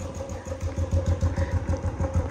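Motorcycle engine idling up close, a steady pulsing putter with a regular low-pitched beat and mechanical clatter, continuing alone without talk.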